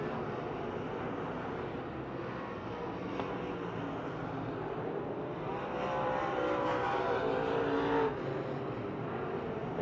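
Race cars lap Pennsylvania Motor Speedway in Pittsburgh, their engines a steady, dense roar with no voices, swelling louder toward the end as the pack passes close.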